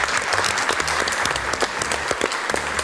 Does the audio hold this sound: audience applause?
yes